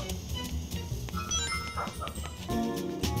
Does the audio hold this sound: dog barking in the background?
yes